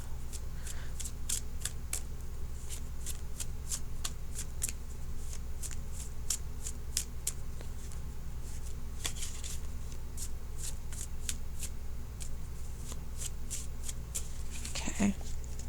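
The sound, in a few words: shuffling tarot cards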